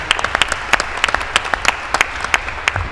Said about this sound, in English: Could you give them a big warm round of applause for working so?